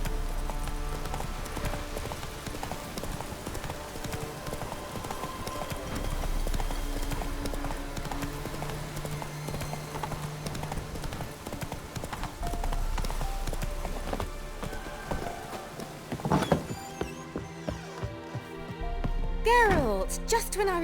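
Geralt's horse Roach trots in The Witcher 3, hooves clopping at a steady pace under sustained game music and ambience, with a sharp clatter and shift near the end.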